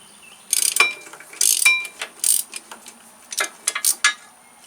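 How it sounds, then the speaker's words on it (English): A ratchet works a bolt loose on a Volkswagen front strut, giving bursts of quick metallic clicking in several short runs, close and fairly loud, with brief pauses between them. "We're going to remove this bolt here."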